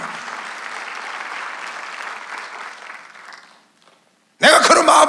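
A church congregation at a Sunday worship service claps loudly for several seconds. The applause fades out, and a voice then comes in abruptly.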